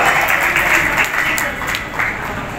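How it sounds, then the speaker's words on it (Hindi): Loud clapping from a crowd at a Durga temple Navratri gathering, continuous and close, with a voice speaking over part of it. "जोरदार तालियों से अभिवादन।"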